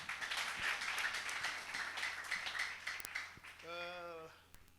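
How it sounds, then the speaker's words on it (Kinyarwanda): A church congregation claps for the word of God, a brief patter of applause under the preacher's voice that fades quickly, followed by a short tonal note. "mumfashe niryo rikuru turikomera amashyi"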